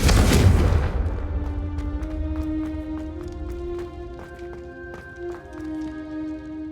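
A Confringo blasting spell in Hogwarts Legacy goes off with a loud, close, rumbling burst at the start, then fades into a ringing magical tail with scattered sharp ticks and sustained tones, with no talking.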